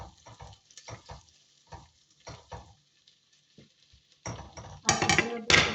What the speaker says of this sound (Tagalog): Igisa na natin ang ating onion at garlic.